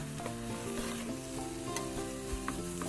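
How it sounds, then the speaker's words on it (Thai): Eggs stir-fried with naem, Thai sour pork sausage, in a pan, producing a continuous close sizzle with a faint steady hum beneath and occasional light stirring clicks. "แล้วก็ผัดไปเรื่อยๆ จนไข่เนี่ยมันเริ่มสุกเลยครับ"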